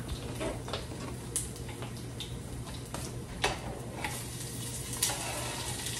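Potatoes frying in a pan for a South Indian potato fry, giving a steady, close sizzle with occasional light clicks and stirring scrapes throughout, no talking.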